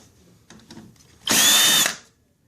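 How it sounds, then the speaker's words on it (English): A power drill spins out screws from the carriage bracket of a LogoJET Pro printer in one short, high-pitched whir that stops abruptly, preceded by faint handling clicks. "grab the drill again, remove these two screws, remove this bracket"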